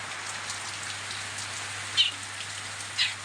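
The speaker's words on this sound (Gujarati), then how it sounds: "વરસાદ ચાલુ થઈ ગયો." Heavy rain falling outdoors on a cold day, a steady close wash of drops on surfaces with a low hum beneath and two brief louder spatters near the end.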